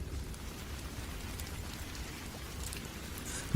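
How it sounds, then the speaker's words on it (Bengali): Heavy, steady downpour set in a rural Bengali village at night for a horror tale, a dense continuous wash of rain hiss that holds an even loudness throughout with no voices. "আর মুহূর্তে শুরু হলো মুষলধারে বৃষ্টি।"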